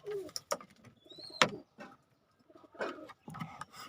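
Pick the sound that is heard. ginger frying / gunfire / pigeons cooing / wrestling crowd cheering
pigeons cooing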